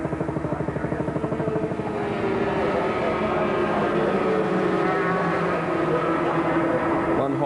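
Racing 250cc two-stroke twin-cylinder Yamaha and Honda motorcycles at Phillip Island in 1989 scream past close by, their high revving engines rising and shifting pitch, loud and continuous.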